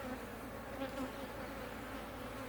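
Honeybees buzz steadily around an open hive while frames are inspected, a dense, continuous drone from many insects close by with no talking.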